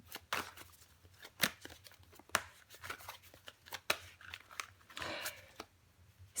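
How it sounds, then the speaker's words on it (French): Tarot cards being handled and laid out, with soft close card snaps, slides and shuffles in scattered bursts, fairly quiet. "On va recouvrir des cartes."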